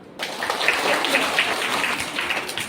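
An audience of parents and students at a school science fair claps in a steady burst of applause, fairly loud and continuous for a few seconds.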